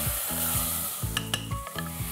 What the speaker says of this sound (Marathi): वाटण घातल्यानंतर पुन्हा एकदा आपण याला एकदा मिक्स करून घेऊया छान